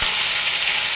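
Gatha shak greens hit hot oil in a pan and set off a loud, continuous sizzle that fills the whole brief moment.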